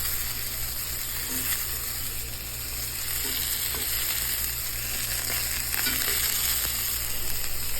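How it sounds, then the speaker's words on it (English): Tomatoes blister and sizzle in a hot pan for salsa, a loud steady frying hiss with occasional soft clicks and scrapes as they are moved around, no voices. "We're going to let the tomatoes continue to blister on all sides."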